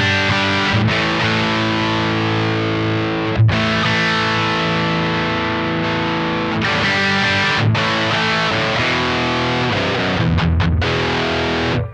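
Crunchy overdriven electric guitar through the distortion channel of a Synergy Mesa Boogie Mark IIC+ clone amp plays a chugging riff of sustained chords with brief gaps between them, dense and loud throughout.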